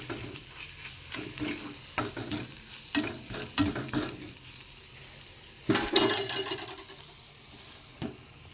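Onion, garlic and spices are stir-fried in a pan, with repeated spatula scrapes and clinks over a quiet sizzle and a louder burst of frying near the end, close and without speech.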